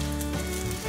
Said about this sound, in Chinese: 把姜片煸至卷曲状